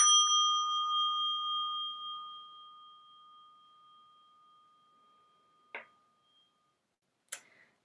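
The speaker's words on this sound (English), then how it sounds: "with the ringing of the bell, we begin our sacred service this morning" A single bell struck to open a Sunday church service, a clear ringing tone that hangs and slowly decays over several seconds, followed by two brief faint clicks in the near silence.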